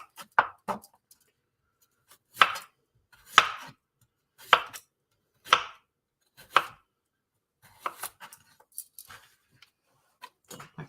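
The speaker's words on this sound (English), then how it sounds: "Just thinly slice these into little circles." A kitchen knife slicing radishes thinly into circles on a cutting board, producing a series of sharp, close knocks in uneven groups, some quick and doubled, with brief quiet gaps between them.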